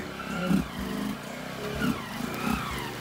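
A CG150 motorcycle on a dirt trail, its engine revving in repeated surges and easing off, a mid-pitched motor heard fairly close with no talk over it.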